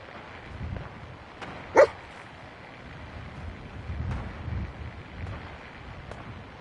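Dogmeat, the dog in the video game Fallout 4, lets out a single short bark partway through, standing out against a quiet, windy outdoor game ambience.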